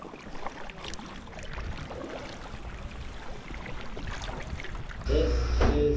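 Kayak paddling on the calm evening water of Telegraph Cove, soft quiet strokes and gentle water movement under light wind, ending in a louder close splash and bump against the boat.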